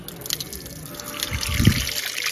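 Water trickles and splashes at a hand and foot washing spot outside a Mahadev temple, a close, continuous running sound with a brief heavier splash near the end.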